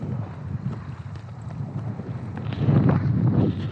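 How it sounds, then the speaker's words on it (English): Strong wind buffets the microphone aboard a fishing boat out on open water, a steady low rumble with gusts that swell louder toward the end, with no voices. "the wind's atrocious out here"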